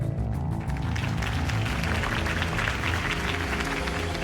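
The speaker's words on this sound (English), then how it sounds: "could have heard that applause" In Batman: The Telltale Series, a crowd applauds after a campaign speech, dense clapping held steady over a low music bed throughout.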